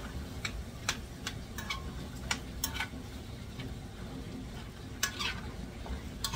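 Home fries with eggs and bacon being stirred in a frying pan: a steady low sizzle carries irregular sharp scrapes and clicks of the utensil against the pan, close and moderately loud, with no talking.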